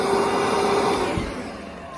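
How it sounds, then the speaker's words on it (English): Compressed air blows into a motorcycle gas tank with a loud, steady rushing hiss and drone that eases off slightly toward the end. "all you need is a shop vac or a little bit of compressed air"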